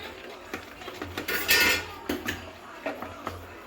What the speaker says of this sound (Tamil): முட்டை கிளறணும்